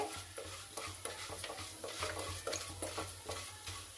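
Mustard seeds, chana dal and urad dal fry in oil at close range, making a steady sizzle and a rapid crackle of small pops, with stirring scrapes throughout.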